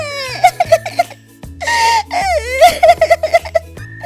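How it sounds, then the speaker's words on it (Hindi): Someone sobs and wails in a forest, with halting, high-pitched cries broken by gasps and sniffles that alternate with longer moaning stretches, loud and close. "तभी उसे रोने की आवाज आती है।"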